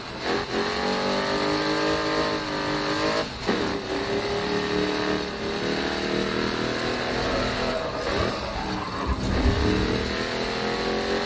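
Race car engines whine and rev continuously in the Grid Autosport racing game, with gear changes and shifting pitch and a roaring, busy mix throughout.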